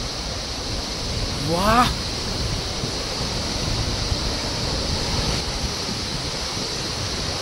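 Steady broadband roar of a waterfall with splashing spray close by, a continuous wash of water noise throughout, with a brief exclamation from a person over it.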